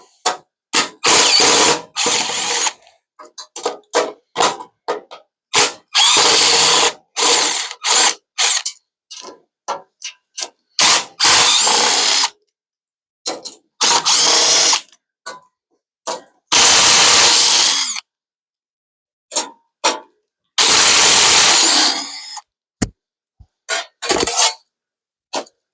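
A bead roller works sheet metal into lower trunk panels, with loud, close mechanical grinding and clicking bursts that start and stop repeatedly between silent pauses.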